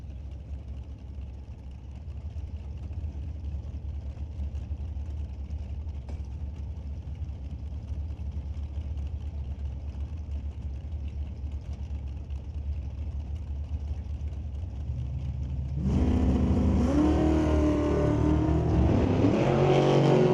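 Brad Powell's dragster and a pearly orange 1991 Mustang sit idling side by side at the Mission Raceway Park drag strip, a steady low rumble that suddenly erupts into a loud, roaring launch for the final few seconds.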